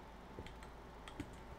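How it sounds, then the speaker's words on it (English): A typewriter in the ghost-hunting game Ghost Watchers clacks on its own: a few sparse, light keystrokes spread out over a quiet background hum. "Typewriter's going off by itself."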